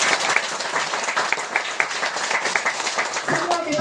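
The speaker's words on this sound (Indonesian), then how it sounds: "beri tepuk tangan buat Tuhan" Church congregation applauding during a sermon, a dense burst of clapping from a gathered crowd that carries steadily for several seconds before a voice begins to speak as it fades.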